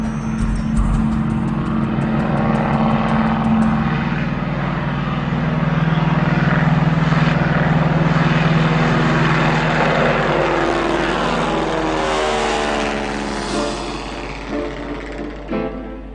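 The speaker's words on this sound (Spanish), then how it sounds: "Cuando este avión vuela y está lejos de las ciudades, estamos en 1928" A vintage 1928 Boeing propeller airplane drones steadily in flight, its engine a loud, even hum with a strong buzzing tone that swells slightly in the middle and eases toward the end, heard alone without voices.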